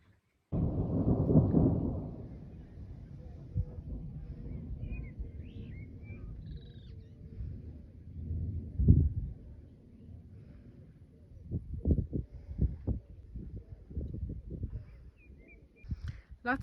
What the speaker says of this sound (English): Lots of thunder